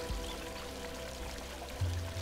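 Water flows and pours steadily in the video game Unravel, a continuous rushing wash with a low steady hum beneath it.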